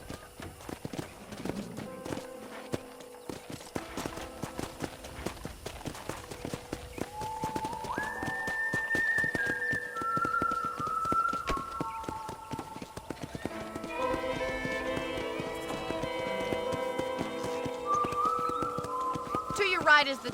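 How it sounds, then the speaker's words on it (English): Rhythmic clip-clop of horse hooves running steadily in Red Dead Redemption, mixed with game music tones and a short whinny, continuing throughout. "let's see if you can still ride a horse."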